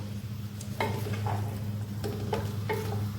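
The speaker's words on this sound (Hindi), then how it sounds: "इसके अंदर अब अपने प्याज डाल देंगे और इनको हमने लाइट ब्राउन करना है" Onions frying in ghee or oil for chicken karahi: a steady close sizzle with spoon-and-pan stirring scrapes coming in short bursts, with no talking.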